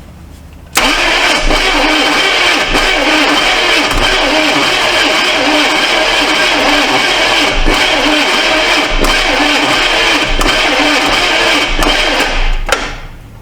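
A 1982 Chevy Silverado C10 engine cranking on its starter in one long continuous loud churning run of about twelve seconds with a fast steady rhythm, never catching, starting abruptly and cutting off sharply, with no talking.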